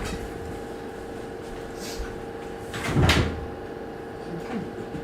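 A door opens for a visitor: a single soft thump and rattle sounds at mid-clip over a steady room hum, with no clear talk.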